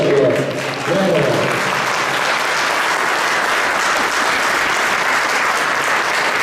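Strong, sustained audience applause at an Italian cultural event, a loud dense wash of clapping following a brief spoken voice at the start.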